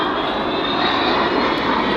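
An Avro Vulcan jet bomber performing an air show display at RAF Waddington, its engines producing a loud, continuous, broadband roar that holds steady throughout.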